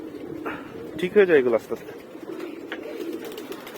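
Pigeons coo in a brief rolling burst near the middle, close and fairly clear, with someone talking over and around the calls.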